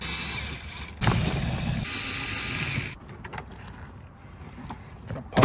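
Screws being taken out of the door panel of an NA Mazda Miata. A loud mechanical whirring, ratcheting stretch gives way to quieter clicks and faint rustling, with no talking.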